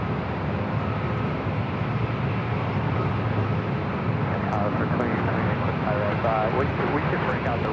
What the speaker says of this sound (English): Next arrival is Delta Airlines Flight 2828 coming in from Denver on an